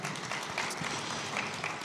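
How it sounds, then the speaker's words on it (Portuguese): Church congregation applauding during a family celebration service, a dense, sustained round of clapping heard from within the room with a few voices faintly underneath. "Dê um aplauso mais forte ao seu irmão"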